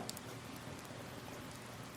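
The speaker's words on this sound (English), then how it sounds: "It began raining." Steady soft rain in the video game Persona 4 Golden, a faint even hiss and patter that continues throughout with no voices.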